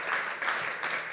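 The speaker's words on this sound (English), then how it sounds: "Avinash, Shawn, Angela, and Stacy a round of applause for their insights during that session." An audience at a conference session applauds, a short burst of steady, moderately loud clapping with no voices.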